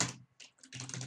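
Quick bursts of keystrokes on a computer keyboard while coding, close and crisp, in short clusters with brief pauses between them.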